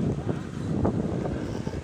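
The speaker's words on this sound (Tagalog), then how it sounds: "malakas pa rin yung alon tsaka hangin sa dagat" Strong sea wind buffets the microphone with a rough, continuous roar, waves rumbling underneath, on a coastal trip heading toward a camp.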